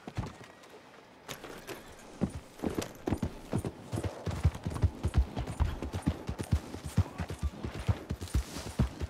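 Horse hooves clip-clopping in the Red Dead Redemption video game, a steady close trot of uneven thuds that quickens and grows busier over several seconds.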